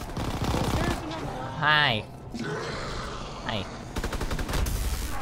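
Rapid bursts of fast-firing gunfire in Call of Duty: WWII Nazi Zombies, a dense volley at the start and another near the end, with someone talking over the shooting in between.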